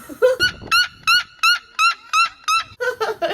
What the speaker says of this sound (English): Fucking bird would not shut up